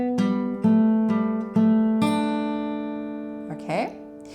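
Acoustic guitar plays a fingerpicked opening riff: a close, clear run of plucked notes over a ringing chord, finishing with a soft string slide, with no talk.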